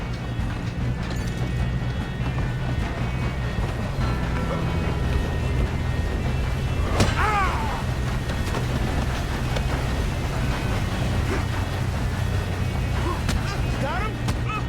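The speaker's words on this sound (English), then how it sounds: "We have to stop this train." Steady mechanical rumble and clanking of a moving train in Red Dead Redemption 2, a continuous loud low drone with metallic ratcheting and occasional squeals, running the whole time with faint voices underneath.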